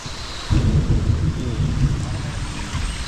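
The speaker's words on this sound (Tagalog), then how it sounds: "may kulog-kulog pang kasama" Thunder rolling through a rainforest during a rainstorm: a deep, loud rumble builds suddenly and sustains over steady rain hiss for about three seconds.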